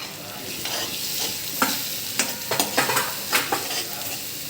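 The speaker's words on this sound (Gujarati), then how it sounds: "આ રીતે આપણે બધું મિક્સ કરી દેવાનું છે" A spoon scrapes and taps against a pan in a quick, irregular series of clicks over a soft, steady sizzle, mixing coriander-cumin powder and Kashmiri red chilli, close and fairly loud, with no talking.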